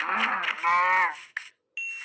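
Minecraft cows give a couple of short, close, clear moos, separated by a brief gap, with a small in-game chime heard alongside them.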